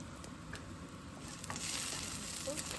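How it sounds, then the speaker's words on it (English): Cinnamon, cloves and cardamom frying in a pan for a Sri Lankan green apple curry give a steady, close sizzle that grows slightly louder partway through, with no voices. "Once you've fried it for like 2 minutes, then add the cinnamon, cloves and the cardamoms."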